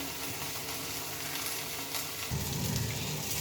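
Drumstick leaves sizzle steadily in a hot pan over a low gas flame, a close, continuous frying crackle with a louder scrape of stirring near the end.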